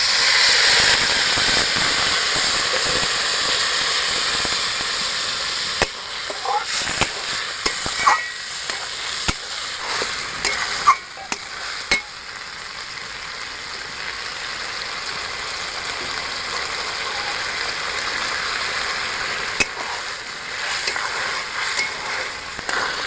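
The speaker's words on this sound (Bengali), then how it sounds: "আমি মশলার জলটা দেব।" Spice water made with ground cumin and ginger hits a hot pan of Gobindobhog rice and rohu fish heads. A broad, steady sizzle carries on throughout, with scattered crackles and pops.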